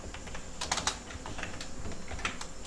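Steady rapid typing on a computer keyboard while writing code, a dense run of light plastic key clicks close by with a few louder taps, no voices.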